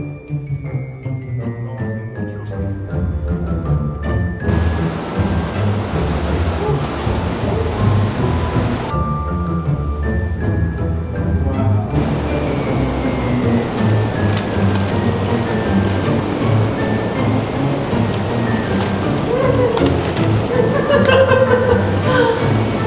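Cascada Esplendida, a waterfall near Jardín, Colombia, roars as a dense, continuous rush of falling water, loud and close, with occasional tonal sounds over it.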